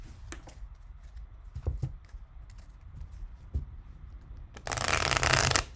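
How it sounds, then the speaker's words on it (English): A deck of tarot cards being shuffled by hand, with soft repeated slides and taps building into a loud, dense riffle near the end, close to the listener with no talking. "I do want to get a good, what do I call it? Good shuffle and another good rifle on these."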